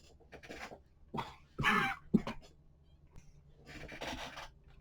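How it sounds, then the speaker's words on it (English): A man coughs several times close to the microphone, a few short rough bursts separated by quiet gaps, with faint rustling between them. "Stupid cough."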